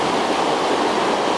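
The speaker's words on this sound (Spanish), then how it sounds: "por aquí justamente es donde está pasando el agua. El agua de la quebrada" Water of a ravine stream rushes under a bridge in Chilete, a loud, steady broadband roar close by with no pauses.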